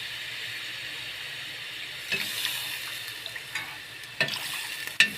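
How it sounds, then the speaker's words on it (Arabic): Broth poured into a hot frying pan sets off a steady sizzle, with splashy bursts and stirring clatter breaking in several times, the last one loudest. "وهنزل بقى ايه اكمل عليها بالشوربه."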